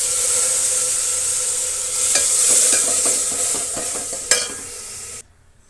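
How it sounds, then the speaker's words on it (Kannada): Grated coconut fried briefly in a pan for a sambar with ridge gourd, giving a steady hiss and sizzle broken by scraping stirs, a sharp clink near the end, then sudden quiet. "ಕಾಯಿ ತುರಿ ಹಾಕಿದ ಮೇಲೆ ನೋಡಿ, ಒಂದು 4 ಸೆಕೆಂಡ್ 5 ಸೆಕೆಂಡಷ್ಟು ಟೈಮ್ ಅಷ್ಟೇ ಫ್ರೈ ಮಾಡಬೇಕಾಗಿರೋದು."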